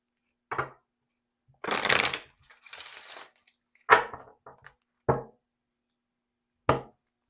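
A deck of oracle cards being shuffled, heard as a few soft, isolated taps and slaps and one brief riffling rustle, close and quiet, with silence between them.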